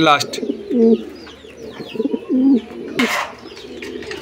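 A male pigeon coos in a few low, rolling calls close by at a large pigeon loft in Gazipur, while smaller birds chirp in the background.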